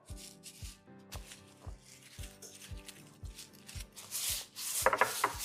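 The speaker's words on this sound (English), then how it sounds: "So I wanna sprinkle it over each of the tenderloins, kind of rub it in well, flip it over," Montreal steak seasoning is rubbed into pork tenderloins by hand, with soft rubbing and patting strokes in an irregular rhythm, close and quiet, growing busier and slightly louder toward the end.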